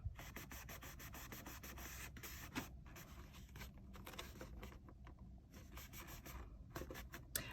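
Glued paper is rubbed down by hand while assembling a large paper rose, giving a close, quiet run of quick scratchy strokes with brief pauses and no talk.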